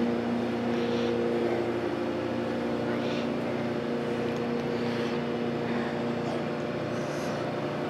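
A large Fairbanks Morse diesel engine runs on diesel oil inside a power plant in Sidney, Nebraska, a steady, droning mechanical hum with a strong constant tone and light knocking, while someone talks intermittently over it.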